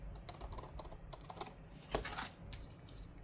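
Paper scrap trimmed for a budget planner page, a quiet series of small crisp snips and clicks spaced irregularly across a few seconds, heard alone.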